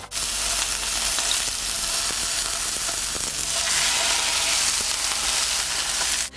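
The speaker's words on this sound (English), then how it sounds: "I only want to get some color on the outside of that beef, so we're just searing it" Beef fillet sears in a hot pan with a loud, steady sizzle and crackle that holds constant throughout, close up and with no voices.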